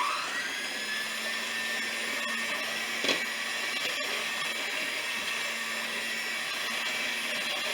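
An electric mixer whirs at a steady high pitch while beating pudding mix for butterscotch pecan bars, running loud and unbroken throughout with only a few tiny knocks.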